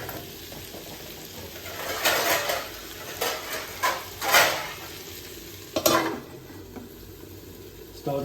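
Vegetable curry cooks in a covered pot on the stove, with a soft steady sizzle and bubbling broken by several clinks and scrapes of a utensil and lid against the pot.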